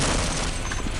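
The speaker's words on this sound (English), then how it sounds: "That was a grenade." A grenade explodes in Half-Life as a short, dense, full-range blast with a rumbling low end. It sounds loud and close and is not mixed with talk.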